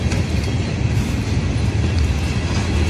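Ferromex freight train hauling gondola cars rolls by while braking, a steady close rumble of wheels and rail clatter with no voices.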